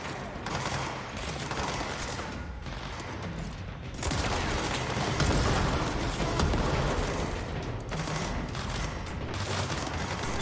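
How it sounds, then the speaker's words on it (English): A Ranger enemy in the Control video game unleashes gunfire: dense, continuous volleys of shots that stay loud and unbroken for the whole stretch, with no talking. "Ranger still shooting at someone."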